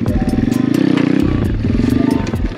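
An Apollo pit bike's small engine revs hard and close during a wheelie attempt, a loud buzzing drone with a rattling pulse that dips briefly and then climbs again.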